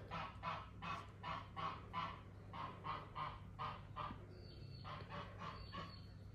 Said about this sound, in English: Excuse my goose out there.